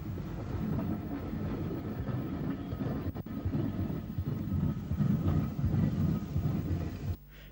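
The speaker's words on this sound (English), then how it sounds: "A J15-060 arrives at Dunleary with a train mostly made up of new coaches" A J15 0-6-0 steam tank locomotive pulls a train of stainless steel coaches into a station at Dún Laoghaire, Ireland, a steady low rumble and rolling rail noise that holds throughout and cuts off near the end.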